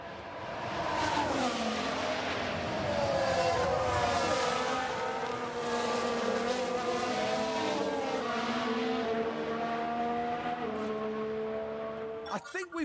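Race cars in the F1 Manager video game, engines whining through rising and falling gear changes as they pass at a steady distance, with a voice commenting over them.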